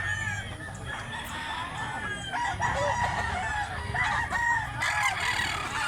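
A large, big-bodied rooster crows in a drawn-out call, close and fairly loud over a noisy outdoor background.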